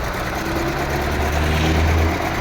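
A Daewoo Nexia engine idles with a misfire, suspected to be one or two spark plugs not firing, giving a close, steady low rumble with an uneven, shaky tone and no talking.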